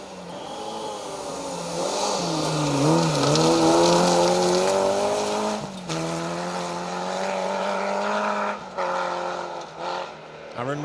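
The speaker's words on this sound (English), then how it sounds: "Aaron McClure throwing that little Peugeot through the stages" A small Peugeot rally car being driven hard through a forest rally stage, its engine revving up and down with rising and falling pitch as it accelerates and brakes, loud throughout, with a commentator talking over it.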